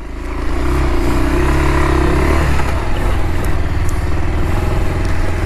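Bajaj Pulsar NS200 motorcycle ridden in first gear over dirt, a loud close engine drone with a steady rumbling note and rattling clatter, holding throughout without pause.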